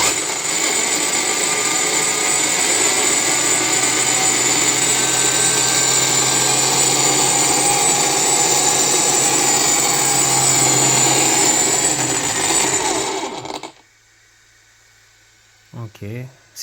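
Loud, steady high-pitched whine of an RC R5 Turbo car's 12S electric motor combo revving for about thirteen seconds, then cutting off abruptly; brief voice fragments follow at the end.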